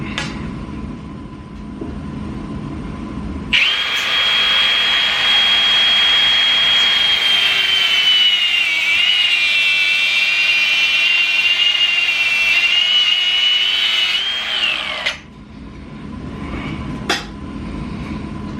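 A high-pitched power tool cuts through rubber hose for a catch can install, a loud sustained screaming whine lasting about twelve seconds that drifts slightly in pitch, framed by quieter shop background before and after.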